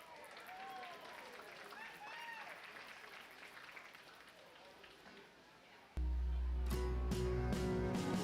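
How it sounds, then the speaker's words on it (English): A crowd applauds youth exhibitors at a county youth livestock show's lamb competition with steady, hissing clapping and a few cheers and whistles, before a loud, abrupt, buzzing tonal noise cuts in near the end. "give these kids a big round of applause"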